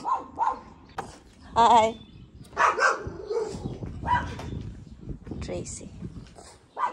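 A neighbour's dog barks and whimpers outdoors with a high whining yelp in the middle, under people talking nearby.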